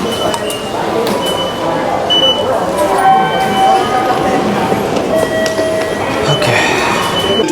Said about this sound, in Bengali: টোকিওর সবচেয়ে ফেমাস ইয়ামানোতে লাইনের ট্রেন চলে আসছে এখানে